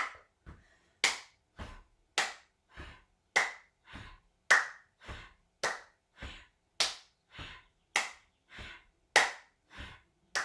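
Hands clapping in a Kundalini yoga class, about sixteen sharp, close claps in a steady, unhurried rhythm, alone with no talking between them.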